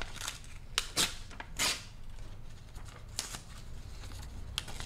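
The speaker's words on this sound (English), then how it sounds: "It is so satisfying to rip paper." Sheets of pink paper torn by hand for a collage, a few short close ripping bursts spaced over quiet stretches, each quick and crisp.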